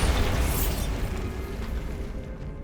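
A Bombarda blasting spell explodes against bones stacked beside an archway in Hogwarts Legacy, a loud close boom that bursts at once and then fades into a rumbling, crumbling tail.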